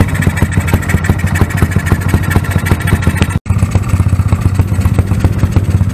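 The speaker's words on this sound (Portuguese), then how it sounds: "É a partida aqui na máquina. Olha o funcionamento dessa moto." A Yamaha YBR OHC motorcycle engine runs at a steady, even idle after starting, loud and close with a rapid regular thump, briefly cutting out for an instant midway.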